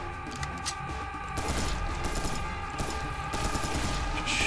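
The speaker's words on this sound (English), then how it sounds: "Just shoot the kamikazes as I see them." Serious Sam 3 gunfire aimed at charging kamikaze enemies: loud, rapid repeated shots in a steady stream that grows denser partway through, with no talking.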